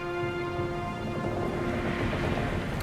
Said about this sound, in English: The storm picks up, lashing your ship and driving you dangerously close to a rocky shore.